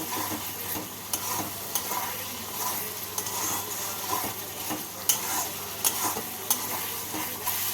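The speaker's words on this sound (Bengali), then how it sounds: "মশলাটাকে ভেজে নিলাম" Spice paste frying in a pan for mutton red curry, a continuous close sizzle broken by frequent scraping stirs and sharp utensil knocks, with no voices.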